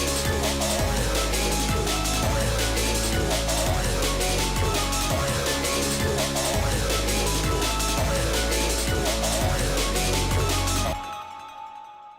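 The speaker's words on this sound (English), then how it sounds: "an electric piano with a ton of distortion on it." Heavily distorted electric piano sits inside a dense full music mix with pounding low end, playing loud and continuous for about eleven seconds before cutting off into a short fading tail.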